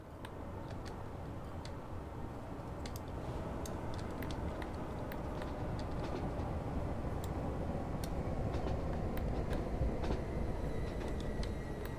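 A train in the Transport Fever 2 game whizzes steadily along, a quiet continuous rail rumble with light ticking clicks, no voices.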